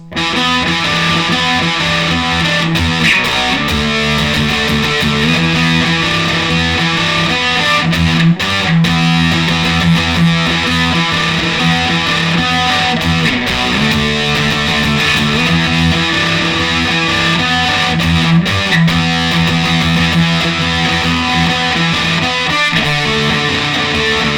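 A heavily distorted electric guitar plays a chugging riff from a song, loud and continuous with steady rhythmic patterns, no voices.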